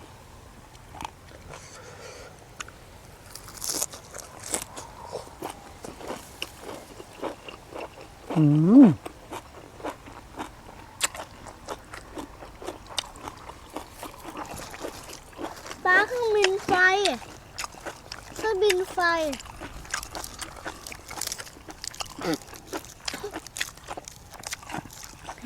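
Someone chews crunchy water lettuce flowers dipped in bitter chili jaew on a cold evening, with repeated close, crisp bites and chewing under intermittent talking and a murmur.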